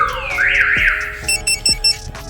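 Compustar remote-start security system siren sounding on a car during a theft alert: a loud rising electronic whoop followed by several sharp repeated beeping chirps, close up, with no talk.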